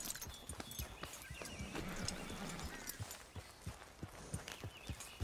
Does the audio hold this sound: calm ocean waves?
no